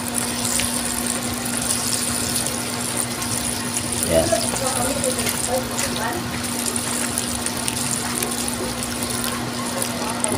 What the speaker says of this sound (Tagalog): Kaya putol-putol muna yung tubig na ibubugan niya.